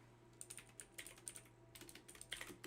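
Fingers type on a cheap computer keyboard, with quick, quiet clicky keystrokes in irregular bursts and a short pause in the middle, heard close up without any talking.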